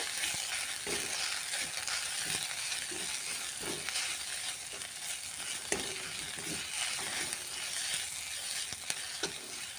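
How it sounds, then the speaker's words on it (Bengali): Ground spices with turmeric and Kashmiri red chili powder sizzle and fry in a pan with a steady hiss, punctuated by soft scraping stirs at irregular intervals, close and fairly quiet. "এবার আমি এটাকেও একটু হালকাভাবে ভেজে নেব।"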